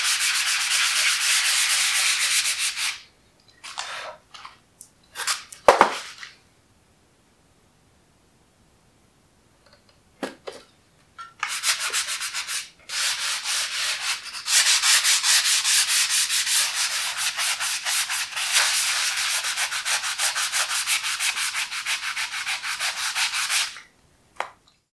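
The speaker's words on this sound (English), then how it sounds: "I'm going to be sanding this piece as well," Steady abrasive rasp of a power sander working a wooden furniture piece, running in long stretches with brief pauses and a couple of knocks in between.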